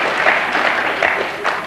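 Studio audience on a German TV comedy show clapping on cue, a short burst of dense, steady applause filling the room with no voices on top.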